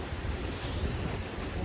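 High sea waves churn at a harbour under strong wind, a dense unbroken roar of surf and gusting air buffeting the microphone throughout the short stretch.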